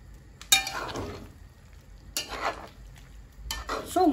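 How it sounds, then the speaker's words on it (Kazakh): Kidney kuyrdak frying in a cauldron is stirred, bursts of scraping and sizzle arriving in three separate strokes over a steady low frying hiss, close and moderately loud with no talking. "мен қазанды бір рет көрейінші араластырып деп."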